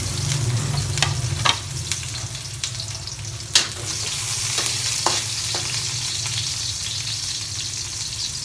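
Spring onion heads are stir-fried in a pan with a steady, close sizzle. A few sharp scrapes and clicks of the spatula break through the frying noise, and no one speaks.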